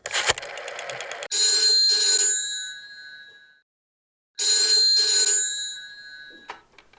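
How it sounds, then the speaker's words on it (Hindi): A telephone rings after a call is placed in a drama serial: a brief dial clatter, then two loud bright bell rings separated by a pause, each ringing out and fading, followed by a faint click. "लगा दो फोन असदुल्लाह मलिक के घर पे।"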